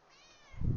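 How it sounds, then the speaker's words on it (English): A pet cat gives a single short meow, quiet and close, that rises at the very end in an otherwise near-silent room. "Kitty."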